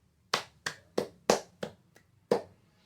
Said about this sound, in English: Give a round of applause first for you.